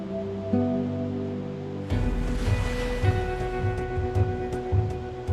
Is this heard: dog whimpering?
no